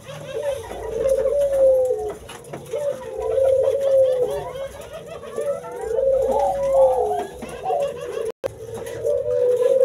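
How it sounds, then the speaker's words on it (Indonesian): A male puter turtle dove coos repeatedly in a breeding cage, soft rhythmic rolling calls close to the microphone, with other doves and faint background sounds. "dengan burung puter nih, burung puternya jantan nih."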